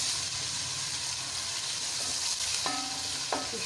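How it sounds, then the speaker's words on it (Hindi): Garlic and ground spices frying in a pan as the base for a dhaba-style kadhi with pakoras, a close continuous sizzle with brief stirring sounds and a short tonal clink near the end. "ये भून लेते हैं इनको।"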